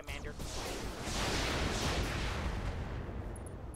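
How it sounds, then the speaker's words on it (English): Mech weapons all firing at once in the BattleTech RogueTech video game: a dense, rumbling barrage of blasts and booms that swells and keeps roaring, heavy and close. "We are going to target the leg this time, and we're going to fire everything."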